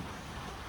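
Rain falling outside with gusting wind during a storm, a dense, steady hiss with no voices.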